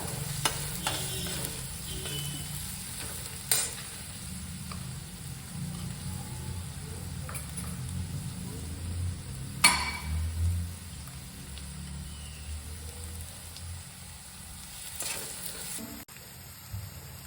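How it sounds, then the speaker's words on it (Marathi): Onion fries in a pan with a continuous sizzle while a spatula scrapes and stirs it in occasional knocks and sweeps. There is no talking. "कांदा चांगला परतून घ्यावा"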